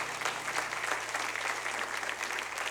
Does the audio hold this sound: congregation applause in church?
yes